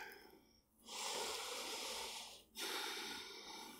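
Deep, steady breaths close to the mic during a pregnancy power flow yoga session, two long airy exhalations separated by a brief pause, with no talk.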